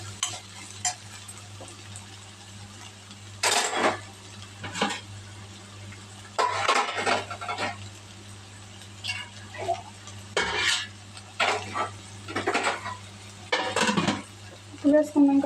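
Dried prawns fry in a pan, stirred with a utensil that scrapes and clinks against the metal in repeated bursts over a low steady sizzle, with a voice talking at times.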